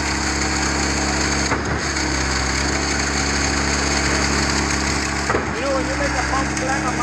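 A Schwing BPA500 concrete pump's engine runs loud and steady up close, a continuous mechanical drone with a couple of brief dips in the roar.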